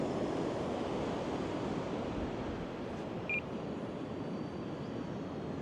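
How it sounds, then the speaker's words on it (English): Steady outdoor wind at a model plane flying field, a continuous broadband rush buffeting the microphone throughout, with a faint brief beep partway through and no talking. "She's a bit breezy. It's around about 18 kilometres an hour."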